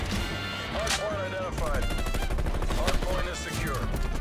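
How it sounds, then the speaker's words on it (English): Pellet gun fire in a Call of Duty multiplayer match sounds as rapid repeated shots over busy game noise and other effects, loud and continuous. "This fool using a pellet gun."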